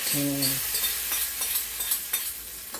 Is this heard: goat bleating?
no